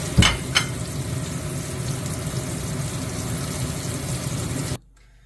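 Chapli kebabs frying in a pan with a loud, steady sizzle after a couple of sharp clinks at the start, then sudden silence.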